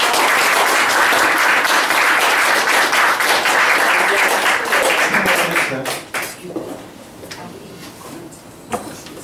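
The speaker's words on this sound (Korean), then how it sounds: "좀 더 큰 박수로 이렇게 모셨으면 좋겠습니다." An audience at a forum on labor politics applauds to welcome panelists, a loud dense clapping for about six seconds that then thins into a few scattered claps and room noise, with some talk underneath.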